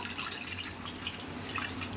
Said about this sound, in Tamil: அதுலேயும் தண்ணி ஊற்றி நம்ம நல்லா ஊற வச்சிடலாம்.